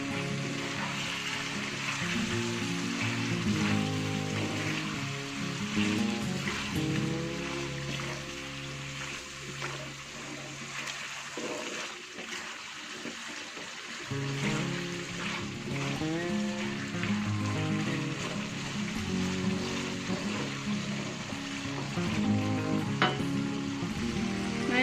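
A frying pan of food with white sugar added gives a continuous sizzle and soft stirring under a layer of background music, with a brief dip partway through.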